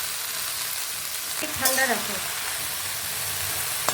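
Chopped jute leaves frying with turmeric and salt in a pan, a constant close sizzle with a brief spatula scrape, while a voice speaks a few words midway over the hiss.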